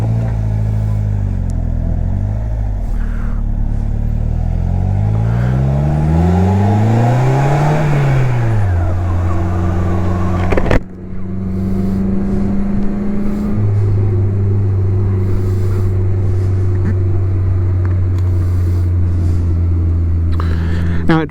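A 2017 Polaris Slingshot with a 5-speed transmission pulls away, its engine revving loud and near through rising gear changes, then settling into a steady drone as it cruises; someone talks over parts of it.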